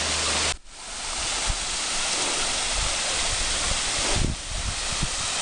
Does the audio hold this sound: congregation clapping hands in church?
no